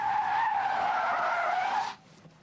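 A new Chevrolet Camaro skids with a loud, sustained tire squeal lasting about two seconds before cutting off abruptly, leaving quieter ambience, with no talking.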